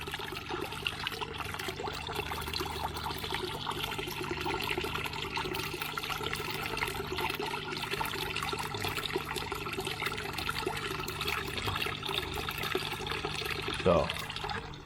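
Water flows continuously in a fish tank, a steady close-up rush and trickle that stays even throughout, with a brief splashy gurgle near the end.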